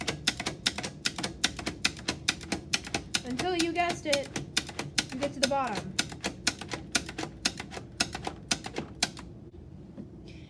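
A braille writer clacks in a fast, regular series of sharp mechanical keystrokes close by, with a person talking over part of the sequence, then the striking stops abruptly near the end.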